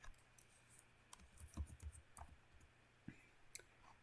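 Quiet clicks of keys on a computer keyboard as a short command is typed, soft irregular taps with a few brief bursts and pauses, no talking.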